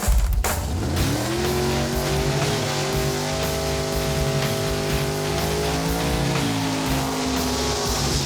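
A drag race car at a bracket racing event revs hard and loud, its engine a continuous roaring drone with rising and falling pitch sweeps over about eight seconds, close by, with no talk.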